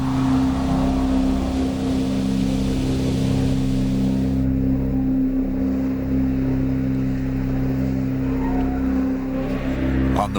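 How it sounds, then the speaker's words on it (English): An Airbus A380's engines run during pushback, giving a steady loud roar with droning low tones and a broad hiss that holds through to the end. "The engines are started, and the aircraft pushed back."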